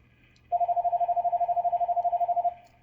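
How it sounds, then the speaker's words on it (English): A mobile phone rings during epoxy resin mixing with alcohol ink and powder pigment, a steady pulsing electronic tone lasting about two seconds, loud and close, with no talk over it. "And my phone started ringing."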